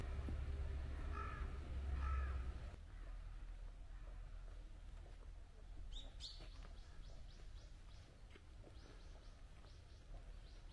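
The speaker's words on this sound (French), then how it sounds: "il y a juste les oiseaux, les corbeaux notamment, hein, très caractéristiques du Japon, qu'on entend vraiment beaucoup" Crows caw in a quiet park in Yokohama, Japan, on a weekday morning: scattered short calls, some at a distance, with a few chirps from smaller birds over a low hum of ambient sound.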